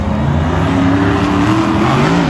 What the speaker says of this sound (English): 12 Monster Jam trucks entering the track right now